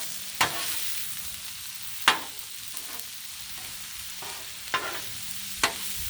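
Tacos sizzle steadily on a hot griddle, a constant frying hiss broken by a few sharp clicks and taps of a utensil against the metal surface.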